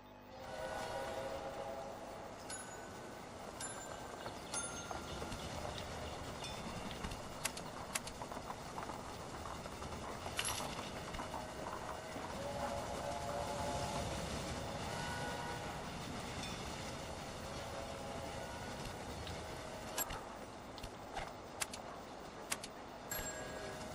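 Trains running in the 1830s-era campaign of the railway strategy game Railway Empire, a steady mechanical rumble and rolling clatter with scattered ticks and clicks throughout, moderately loud and continuous with no talking.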